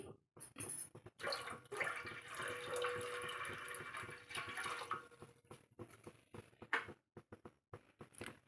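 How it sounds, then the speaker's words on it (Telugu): Water pours steadily into a pot for a few seconds with a rushing, splashing hiss, then stops amid a few clatters. "తపిలి పెట్టుకొని నీళ్లు వేసుకోవాలి"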